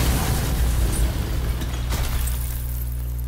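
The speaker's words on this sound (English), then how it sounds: "And let the chandelier hit the ice wall." A chandelier crashing into an ice wall in God of War on PS4, a heavy booming impact with breaking and shattering debris, loud and close, then fading into a low rumble.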